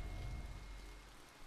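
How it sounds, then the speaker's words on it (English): Rain in the video game To The Moon, a soft steady patter of rainfall on surfaces with a faint low rumble, quiet and continuous throughout, with no talk. "Oh, it's raining."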